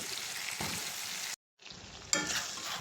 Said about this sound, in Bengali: আমি পেঁপেটা দিয়ে কষিয়ে নেব